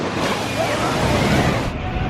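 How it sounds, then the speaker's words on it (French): Sea waves wash onto a beach in Korea in a steady, loud rush with a windy hiss, continuing without a break until the roar drops off slightly near the end. "il y a des bonnes vagues"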